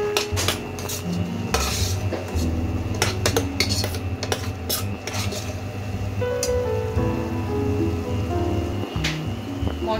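Onions and tomatoes frying in a pan, heard mostly as a metal utensil clanking and scraping against the cookware in quick irregular strokes over a faint, low sizzle, close by with no talking.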